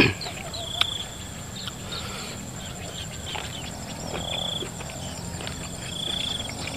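Crickets and other insects chirp faintly in an outdoor night setting, with thin high trills that come and go over a steady low background hum.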